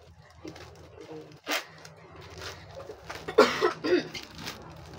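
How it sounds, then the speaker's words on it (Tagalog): A few short, rough coughs from a nearby young woman, clustered near the end amid quiet household background noise. "inuubo po yung dalaga natin."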